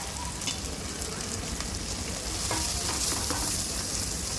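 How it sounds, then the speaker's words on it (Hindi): Carrots, beans and chilli paste sautéing in a pan, a dense continuous sizzle close by with scattered spatula scrapes, no voices. "पहले इसको हम अच्छे से सौटे करेंगे।"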